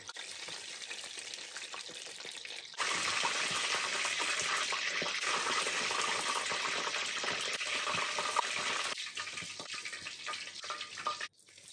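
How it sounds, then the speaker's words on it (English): Onions and curry leaves fry in hot oil, first as a quieter sizzle, then as a loud, dense, steady crackle for several seconds before it drops back and cuts off. "I'm also frying the onions from earlier in the same oil, along with a few more curry leaves for a crunch"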